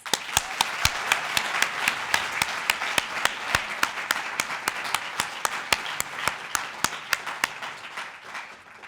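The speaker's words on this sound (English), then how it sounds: "One more round of applause." A small audience at a pledge-taking and awards ceremony claps steadily for several seconds, the individual claps sharp and distinct, with no voices over it.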